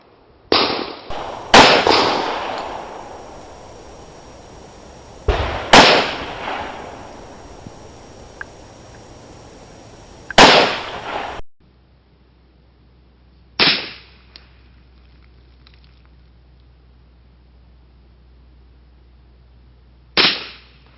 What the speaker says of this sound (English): I shot it 20 yards from bench rest to see what would happen.